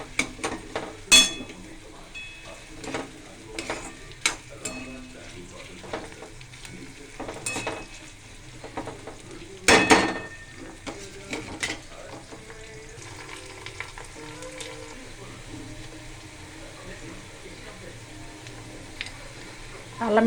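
Onion and garam masala frying in a pan for bagara rice, a low steady sizzle with intermittent stirring scrapes and clinks throughout, one louder clatter near the middle.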